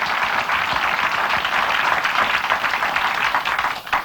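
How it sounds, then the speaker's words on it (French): A French radio studio audience applauding, steady dense clapping for about four seconds before it tapers off at the end. "Vous allez l'applaudir"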